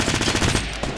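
Rapid automatic gunfire in the Fortnite battle royale video game, a loud, close burst of about eight quick shots in a steady rhythm that stops briefly, then one more shot.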